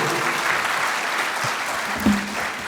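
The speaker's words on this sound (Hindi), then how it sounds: "एक बार जोरदार तालियां" An audience at a Hindi-Urdu poetry gathering (kavi sammelan) at Pune International Centre breaks into continuous, fairly loud clapping that sustains evenly, with a brief bump and a faint voice near the end.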